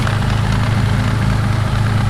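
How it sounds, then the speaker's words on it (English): Idling Mitsubishi 3000GT with a noisy clutch and a worn transmission, a steady close low engine rumble with a faint mechanical rattle running throughout, no speech. "That clutch is noisy."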